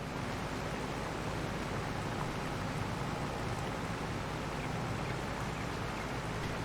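Rain falls across a farm in Farming Simulator 22 as a steady, even hiss with no distinct drops. It stays faint and unchanging throughout, with no voices.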